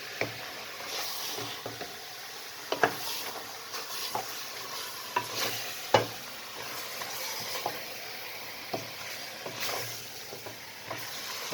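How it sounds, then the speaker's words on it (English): Onions, garlic and ginger being stirred in a frying pan, with a steady sizzle beneath irregular scraping strokes and occasional sharper clinks of the utensil against the pan, no talking. "now I'm just mixing this in so we can cook the onions and the garlic and the ginger off a bit"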